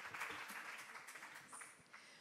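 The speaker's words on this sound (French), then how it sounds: "Une bonne main d'applaudissements pour Philippe pour avoir fait cette première présentation." Applause after a student presentation at a technology innovation event, a fairly dense wash of clapping that sounds faint and distant and eases off slightly near the end.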